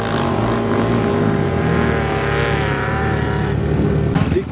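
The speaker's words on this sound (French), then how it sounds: "des buggy," Buggy engine running steadily at a desert motor festival in the United Arab Emirates, a loud, close, continuous drone with harmonic whine that holds throughout and rises slightly at the end, with no talk.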